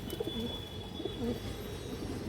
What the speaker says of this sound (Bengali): খুব সুন্দর কবুতর এটা মাদি কবুতর পাল্লার কবুতর